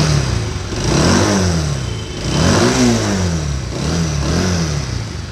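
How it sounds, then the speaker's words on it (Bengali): A used 2018 Bajaj Pulsar motorcycle engine runs steadily, rising and falling through several moderate revs in a loud, close, continuous drone with no talk. "তো এরপরে একটু ইঞ্জিনের সাউন্ডটা আপনাদেরকে শোনাবো"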